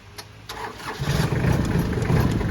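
A Kubota B2440 tractor engine cranks and fires up, settling into a rough, rumbling idle close by.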